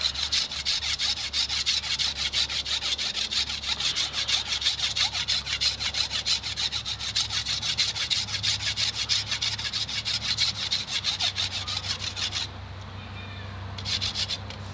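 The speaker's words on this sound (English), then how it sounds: "So I'll just kind of quickly go down and rough up that chaff" Dogbane plant stalks are scraped to strip off the chaff, a close, fast, rhythmic rasping that repeats steadily for about twelve seconds, then slows to a lighter scrape.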